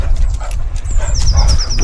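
Dogs on a woodland walk in Essex give a brief whine and yip up close over a low rumble of wind and movement, lasting under two seconds.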